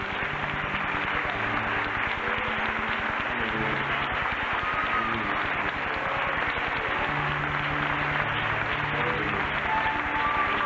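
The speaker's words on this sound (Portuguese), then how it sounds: "Vamos aplaudir ao Senhor Jesus." A church congregation claps steadily in praise while music plays beneath it, producing a continuous, even wash of applause that holds at a moderate level throughout.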